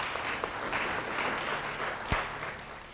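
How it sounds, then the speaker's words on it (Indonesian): Crowd applause at a church service, a soft, continuous patter of many hands with one sharp, louder clap near the end. "Yang mau beri tepuk tangan bagi dia."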